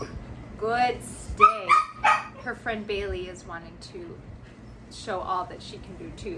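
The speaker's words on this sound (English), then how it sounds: "Sorry about the barking in the background." A dog, Bailey, barks and yips in the background of a home kitchen during training, several short bursts mixed in with a voice as she talks.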